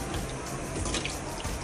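Water pours steadily into a pan of Tamil-style vada curry with coconut and vada pieces, a continuous close splashing rush with no voices.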